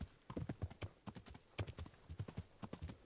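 A horse's hooves clip-clop in a quick, irregular rhythm in Kingdom Come, heard fairly close but soft and with no talking over them.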